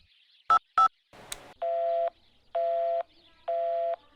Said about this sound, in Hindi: कब से फोन लगा रहा हूँ, पर रिंग तो नहीं आया